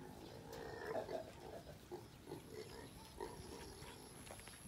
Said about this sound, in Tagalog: Halo pong anak ni Mario at ni Bobby at ni Rocco ang mga biik na ito